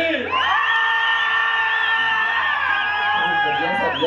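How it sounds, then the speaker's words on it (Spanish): A karaoke crowd lets out loud, sustained whoops and cheers, voices rising and wavering together for several seconds close by. "¡Un aplauso para Caliné!"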